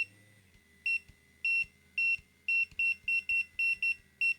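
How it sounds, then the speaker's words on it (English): An XNET Vane vape device beeps at each button press, a series of about ten short, sharp electronic tones in an irregular rhythm that quickens toward the end, close and clear over a quiet background. "Another annoying thing, and this one is really bad, is that annoying beep."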